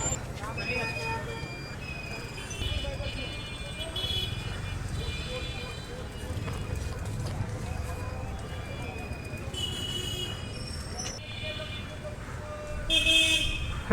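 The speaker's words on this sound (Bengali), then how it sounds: "কী লাভ হচ্ছিল এই গাড়ির এখন হর্ন দিয়ে?" Car horns toot several times amid rumbling traffic on a jammed city street in Rajshahi, Bangladesh, some beeps brief and others longer, with a louder honk at the end and a voice speaking now and then.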